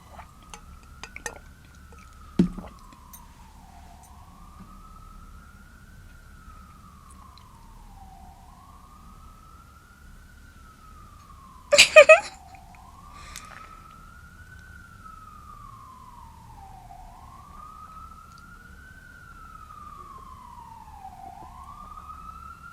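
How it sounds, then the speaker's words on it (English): A siren wails in long, rising and falling sweeps, steady and moderately distant, with a couple of sharp knocks and clatters in between. "Y'all hear them sirens?"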